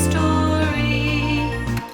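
Arturia SQ-80V synth arpeggio held to root notes only, a steady sustained tonal pattern with a low bass line shifting pitch every few quarter-seconds, played alone at moderate loudness.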